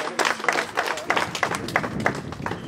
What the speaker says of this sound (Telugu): అందరూ గట్టిగా చప్పట్లు